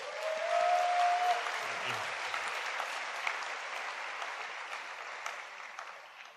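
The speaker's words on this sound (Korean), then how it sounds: "박수 한번 보내주세요." Applause from a large gathering of Christian soldiers at a national revival service, steady and dense for several seconds with a whistle-like tone near the start, tapering slightly toward the end.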